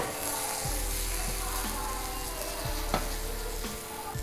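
Chopped tomatoes sauté for a gravy in a pan with butter, giving a steady close sizzle and frying hiss while a utensil stirs and scrapes now and then.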